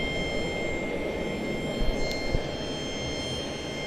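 Steady whine of a CRJ regional jet engine at Charlotte-Douglas International Airport, a continuous broadband roar with sustained high tones running nearby, plus a couple of faint thumps.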